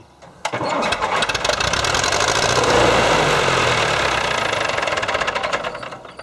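A vintage tractor engine cranks and catches, then settles into a loud, close, knocking run with rapid rhythmic chugging that fades slightly toward the end.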